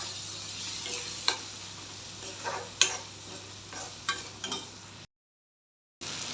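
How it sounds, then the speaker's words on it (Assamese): Turmeric and salt fry in hot oil for a chicken with bamboo shoots dish, a soft steady sizzle broken by several sharp stirring scrapes and clicks, then sudden silence. "এইখিনি ভালকৈ ভাজি লওঁ এতিয়া।"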